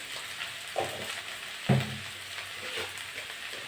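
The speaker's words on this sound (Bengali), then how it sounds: "নেড়ে চেড়ে ভেজে নেব।" Okra and potato pieces fry in a pan, a continuous hiss and crackle broken by a couple of scraping stirs of a spatula against the pan, heard close with no talking.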